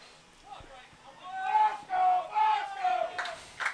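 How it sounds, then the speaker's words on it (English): Crowd at a high school boys lacrosse game between Ridgewood and Don Bosco at Ramsey, cheering and shouting in loud swells with several rising roars, mixed with voices. "And the crowd getting into it here at Ramsey."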